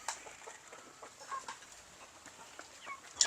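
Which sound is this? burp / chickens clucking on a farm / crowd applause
chickens clucking on a farm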